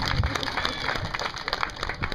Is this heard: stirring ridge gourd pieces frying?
no